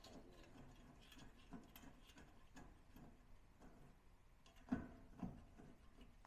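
A ratchet wrench turns bolts on a 2023-or-later Honda Pilot during an exterior molle panel install, a faint rapid clicking in steady repeated strokes, with a couple of louder clunks near the end.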